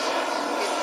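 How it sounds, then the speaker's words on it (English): A remote control turbine jet airplane roars steadily with a loud, even broadband whoosh and high whine, continuous and fairly close, with no talk over it. "this particular airplane, is actually how they sound"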